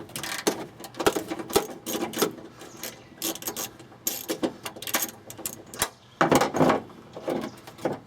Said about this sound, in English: I'm going to detach the final 4 mounting bolts and then an earth bolt